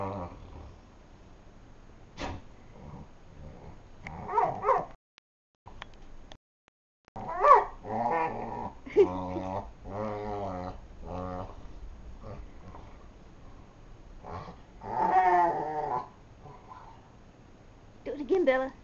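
A dog playfully growling and grumbling in short rough bursts through play with another dog, close by, while a person talks and urges it on throughout.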